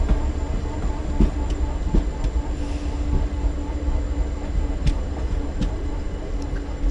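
Ernakulam Pune Poorna Express pulling into Kulayam station: a steady, heavy low rumble of rolling wagons with scattered metallic clicks and knocks, continuous and fairly close throughout.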